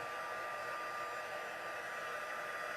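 A steady, whooshing blast of hot air from a small craft heat tool runs continuously at moderate volume, with no talking.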